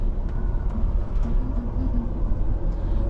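A vehicle rolling along a highway toward Newberry Springs, California, with a steady low engine and road rumble filling the cabin, constant and droning with no talk.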